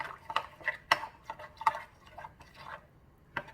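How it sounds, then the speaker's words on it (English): A spoon stirs roughly chopped garlic cloves into a jowar flour batter in a bowl, giving a few sparse clinks and soft scrapes against the sides, close and fairly quiet. "I am going to put in this my jawar flour batter and then mix it well."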